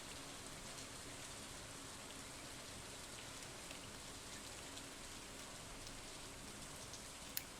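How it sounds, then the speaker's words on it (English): Steady rain from the Stardew Valley video game falls as an even, soft hiss of drops throughout, constant and unbroken, with no voices. "But on a rainy day, I think you're less likely"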